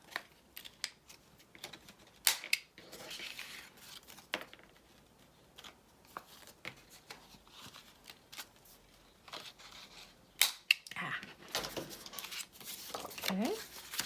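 Scissors snip the corners off layered paper tags made as colourful ephemera for journals, a scattered series of close, crisp cuts with paper shuffling between them and brief pauses.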